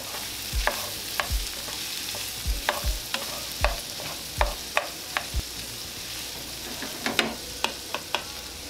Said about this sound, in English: And we just want to stir things up.